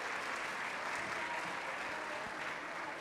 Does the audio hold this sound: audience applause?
yes